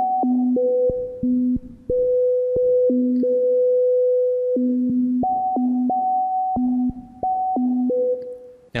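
Haken Continuum synth patch built in EaganMatrix with sample and hold, producing pure sustained electronic tones that step abruptly between a few fixed pitches in an uneven pattern, loud and clean, ending in a brief click.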